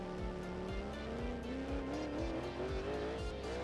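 Game car in BeamNG, version 0.14, losing traction and sliding across the track: a steady engine drone with a pitch that climbs gradually, repeated low thumps and a continuous tire-scrub hiss, loud and close, with no voices.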